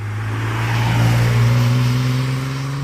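A Nissan 370Z Nismo's naturally aspirated 3.7 litre V6 holds a steady, loud, close drone throughout, with a strong low engine tone and no talking.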